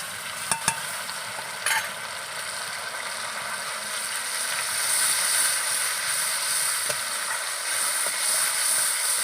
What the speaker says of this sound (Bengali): এইটা সেই পেস্টটা দিয়ে দেবো তেলের মধ্যে